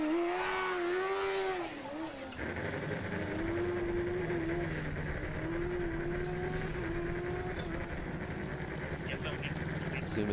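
A Formula SAE race car, the Buckeyes' entry, drives an autocross run at a Formula SAE combustion event, its engine note rising and falling steadily through the course under a commentator's continuous talk and crowd-like background noise.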